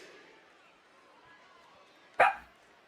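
One sharp dog bark, close and brief, breaking through an otherwise quiet, low background hum.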